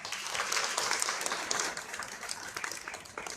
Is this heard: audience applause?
yes